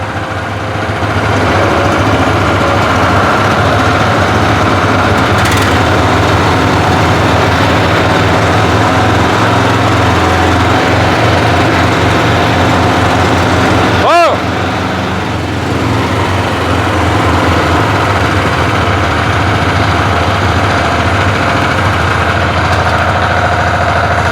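Two walk-behind tractors, a 16 hp petrol and a 12 hp diesel, run together in a steady, loud engine drone, with a short bump midway and no talking.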